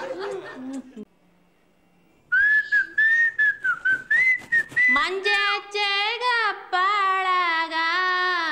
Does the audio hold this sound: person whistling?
yes